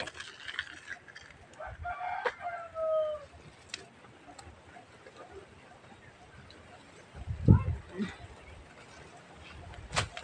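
Chickens cluck and crow in short bursts over a noisy outdoor background, with a louder thump or knock near the end.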